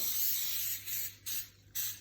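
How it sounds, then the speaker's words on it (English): Non-stick cooking spray hisses from an aerosol can into a pan in short bursts, three sprays separated by brief pauses, close and fairly quiet. "you can use this this non-stick cooking spray, and we're just gonna spray it down pretty lightly in here."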